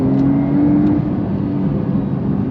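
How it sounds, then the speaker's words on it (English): A Porsche 992 Carrera 4 GTS accelerates hard, its engine a loud, close, sustained droning growl with a steady tone that shifts about a second in, no voices heard. "I'm in the brand new Porsche 992 Gen Carrera 4 GTS, and this thing is fast."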